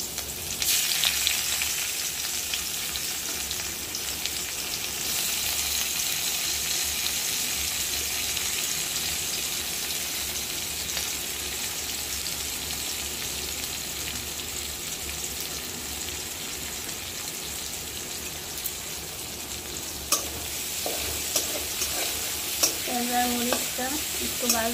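Chopped onion and green chili sizzle steadily in hot oil with toasted cumin, a continuous frying hiss with scraping stirs in the pan, close and fairly loud throughout.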